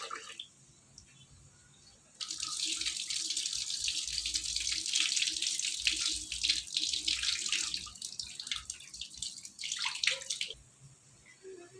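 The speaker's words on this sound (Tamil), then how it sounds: "லைட்டாக கிண்டி விட்டு மட்டும் வாஷ் பண்ணி எடுத்துக்கணும்" Soaked basmati rice is washed under running water, a steady hiss of flowing water lasting about eight seconds with faint stirring beneath, then stopping.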